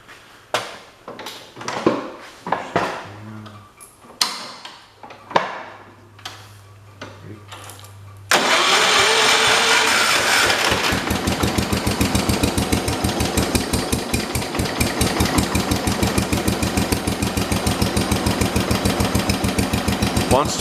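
A 1968 Wheel Horse 112 lawn tractor engine cranks after a few quiet clunks, then fires and runs at a steady, loud, rhythmic idle close by.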